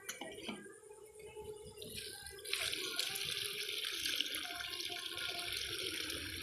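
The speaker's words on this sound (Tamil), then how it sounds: "தண்ணி" Water runs steadily from a tap into a container, starting softly and then flowing harder and louder after a couple of seconds, with no talking.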